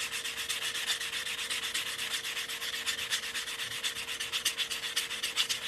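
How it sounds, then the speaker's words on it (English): The cut edge of a metal coin ring is sanded by hand, a close, steady rhythmic rubbing and rasping of quick back-and-forth strokes, with a faint constant hum underneath and no voices. "I'm going to sand this cut edge, make it nice and smooth before we start stretching this coin."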